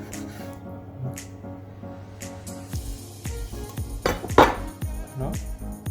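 A knife cuts through a raw chicken between the wings during yakitori preparation, with a soft chopping on the board, then sharp clicks and clatters of the blade striking and scraping, and a louder crunching snap midway.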